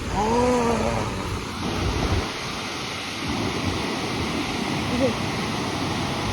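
A waterfall in a forest in autumn, roaring steadily and broadly at close range, while faint birdsong chirps rise briefly above the rush and a voice is heard.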